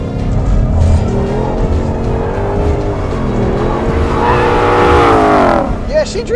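A Mustang Shelby GT500 drifts, its engine roaring loud and close with rising revs and tire squeal building over several seconds, while people talk underneath.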